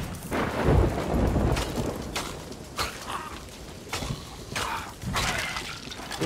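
Thunderstorm in the video game Sea of Thieves: heavy rain hiss with repeated rumbling thunder rolls and cracks every second or so, loud and close.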